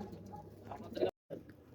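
A pigeon coos softly a few times at close range in a loft, the sound cut by a brief silence near the end.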